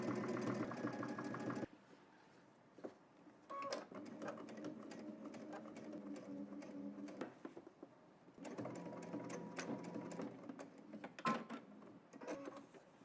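A home sewing machine stitches down a sleeve placket in three separate runs, each a quiet, steady mechanical whir with short pauses between.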